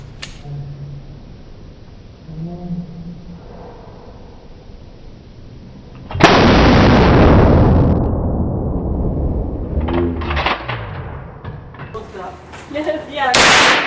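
Full-auto machine gun fired by an 11-year-old at a Las Vegas shooting range, slowed down: a loud, sustained roaring blast that drags on for several seconds, preceded by quiet background chatter and followed by scattered pops.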